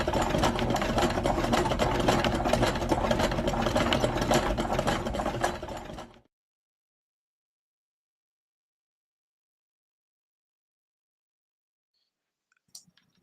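A sewing machine sound effect in an animation runs as a steady, fast mechanical whirring and clattering for about six seconds, then stops abruptly into silence broken by a faint click near the end.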